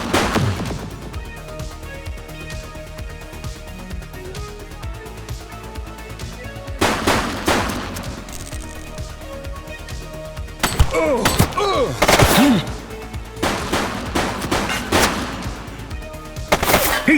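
Gunfire in The Precinct video game, repeated sharp shot bursts in clusters over a tense music bed, loud and close, with brief game voices between.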